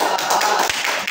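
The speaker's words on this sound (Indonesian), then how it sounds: "Boleh tepuk tangan untuk Hafiz." A classroom group claps for a student named Hafiz, a short burst of quick, close handclaps lasting about a second.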